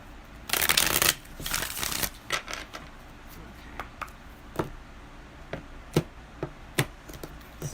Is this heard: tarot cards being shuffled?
yes